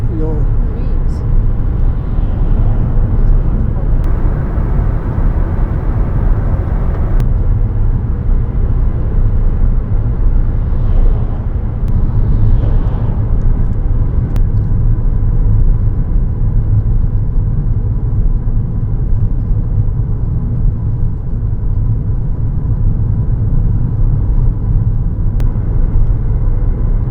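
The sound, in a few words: truck rumbling behind the car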